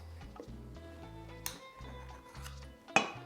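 Spoons scrape and clink against a metal bundtlette pan while batter for lemon bundtlettes is spooned in, giving a series of light taps and ticks over a soft musical background, with one sharper clank near the end.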